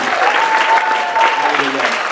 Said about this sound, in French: on peut encore plus applaudir le Seigneur aussi